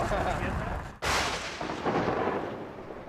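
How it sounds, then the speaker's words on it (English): A lightning strike cracks into a sudden loud boom of thunder inside a violent tornado storm, with heavy rumbling wind and rain before and after, and a voice briefly heard. "It's lightning!"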